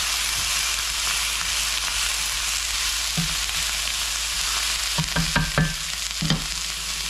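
Snow peas stir-fried with a little salt in a hot pan, a steady close sizzle running throughout with a few sharper scraping clatters of the utensil toward the end.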